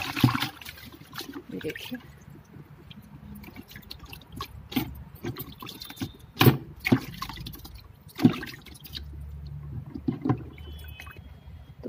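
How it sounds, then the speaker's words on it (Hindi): Leaves being rubbed and washed by hand in water before grinding on a stone slab, with irregular splashes and sloshing; a person speaks briefly over the water sounds. "तो सारे पत्ते मैंने धो लिए हैं।"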